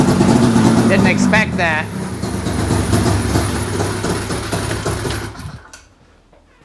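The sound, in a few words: rebuilt 2003 Ski-Doo Rev 600 snowmobile engine starting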